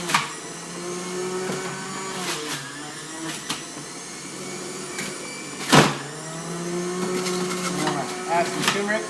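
An electric juicer whirs and grinds as apples are pushed through, a steady motor drone broken by louder crunching bursts and a sharp spike midway, heard up close.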